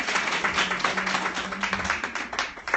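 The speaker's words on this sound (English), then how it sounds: "another round of applause" An audience at a women's career panel gives a round of applause, a moderate patter of individual hand claps, fairly close and without talk.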